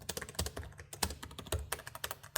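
Rapid typing on the keyboard of an Asus ROG Zephyrus G16 (2025) gaming laptop with long key travel, giving a close, steady run of crisp key clicks and taps with no talking.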